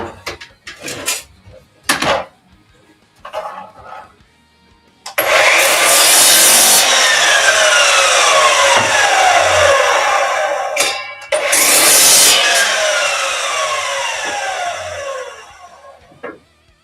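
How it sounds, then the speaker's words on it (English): A miter saw slices through wood for a bench, starting loud after a few light taps, whining for about six seconds, pausing briefly, then cutting again and slowly spinning down, close up. "Watch your ears, folks. Miter saw."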